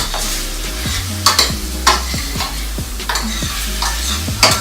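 Tofu sizzles steadily in a hot pan while a utensil stirs and scrapes it in repeated strokes, close and fairly loud, with no voices.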